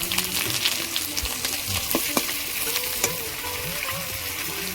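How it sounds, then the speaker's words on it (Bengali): Whole cumin seeds, dried red chillies and bay leaves crackle and sizzle in hot oil where fish heads were fried, a steady close frying hiss with scattered pops and light utensil clinks. "ওই তেলের মধ্যে গোটা জিরে দেবো শুকনো লঙ্কা তেজপাতা"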